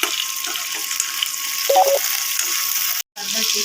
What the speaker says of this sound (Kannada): ಗೋಲ್ಡನ್ ಬ್ರೌನ್ ಬರುವಾಗ ಚೆನ್ನಾಗಿ ಫ್ರೈ ಮಾಡ್ಕೋಬೇಕು